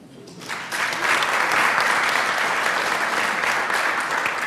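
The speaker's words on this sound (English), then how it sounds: "So you're going to get worn out with all this hand clapping." Audience clapping at an academic scholar talk, a dense continuous wash of hand claps that swells up within the first second and holds steady and loud throughout.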